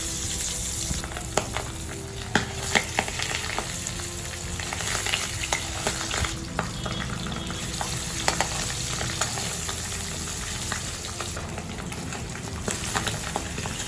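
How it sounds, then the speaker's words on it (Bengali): Scaleless pabda fish frying in hot oil in a kadai, giving a steady, close, fairly loud sizzle with scattered spattering crackles throughout and no talking. "এবার একটা একটা করে মাছ ভাজার জন্য মাছগুলো ছেড়ে দেবো।"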